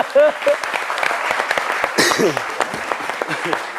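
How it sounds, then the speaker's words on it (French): A studio audience applauds loudly, and the clapping runs throughout under a voice speaking over the crowd. "qu'on applaudit bien fort, s'il vous plaît."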